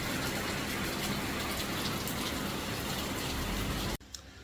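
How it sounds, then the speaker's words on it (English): Steady, fairly close wash of light rain falling outdoors, continuous broadband hiss for about four seconds, then cutting off abruptly into near quiet. "Not a heavy rain."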